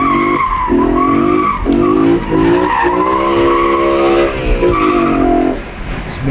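A BMW E92 M3 with a V8 engine and manual gearbox pulls uphill in third gear, its engine note rising steadily and loudly up close from inside the car, with some talk over it.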